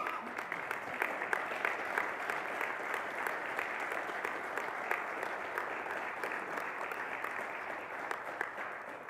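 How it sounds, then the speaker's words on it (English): An audience applauds program participants at an evening lecture, sustained dense clapping from a full room holding steady at a moderate level throughout with no speech over it. "let's give them a round of applause as well"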